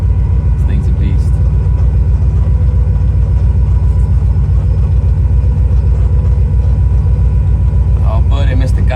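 Dragster engine running hard on a dyno in a shop, a loud, steady low rumble filling the whole stretch, with brief voices and clatter near the end.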